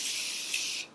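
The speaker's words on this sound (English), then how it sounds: "hydrate with some Morphe setting spray." Morphe setting spray misted onto a face during a makeup routine, one close, steady hiss lasting most of a second before cutting off.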